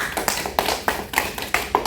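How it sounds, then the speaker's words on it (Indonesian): A classroom of students claps for a classmate, with a handful of distinct, close, sharp claps at an uneven rhythm over two seconds and no voices. "Tepuk tangan dong untuk Anissa."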